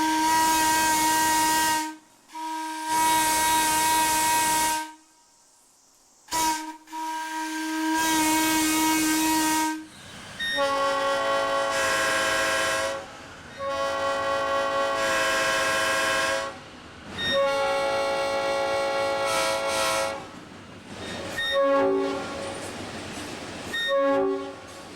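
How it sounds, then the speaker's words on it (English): A small steam whistle sounds in several loud, sustained blasts separated by short gaps, some blasts shifting in pitch and ending in brief chirps, with no talking over it. "We were going to hear the baby whistle."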